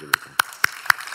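Five sharp, evenly spaced claps ring out in a church during a Sunday sermon service, brief and rhythmic, with a quiet room tone between them.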